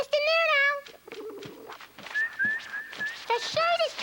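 A man imitates bird calls by voice for a children's springtime segment, with whistled tones, chirps and warbles rising and falling in several separate bursts, close and fairly loud.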